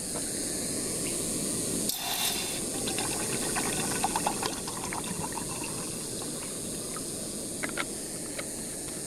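Water poured into a metal canteen cup before boiling, a continuous splashing, trickling flow heard close up, with a sharp clink partway through and no voices.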